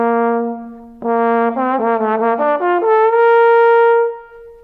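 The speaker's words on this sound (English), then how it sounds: "When you put the mouthpiece back in the horn, the trombone sounds like this." A trombone played with its mouthpiece in the horn: a held note, a brief break, then a rapid run of short notes climbing upward into a final sustained tone, loud, clear and close with no talking.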